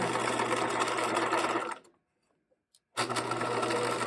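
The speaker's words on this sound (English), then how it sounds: "At my machine, I am ready to sew up my outseam that I've pinned." Home sewing machine running steadily while stitching the outseam of a pair of shorts, a fast even whir that stops abruptly for about a second before starting up again.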